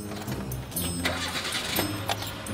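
A car engine cranks and catches, then runs with a rough, uneven rumble, close and fairly loud with no talking.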